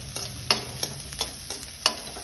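Bitter gourd sabzi with karonda fries quietly in a pan, a faint low sizzle broken by several soft scraping stirs spaced through a couple of seconds.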